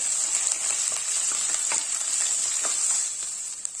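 Two sliced onions sautéing in hot oil in a pan for mushroom biryani, a dense, even sizzle with a few soft scrapes of stirring, close and steady for a few seconds without speech.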